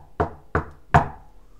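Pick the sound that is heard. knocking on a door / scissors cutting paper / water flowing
knocking on a door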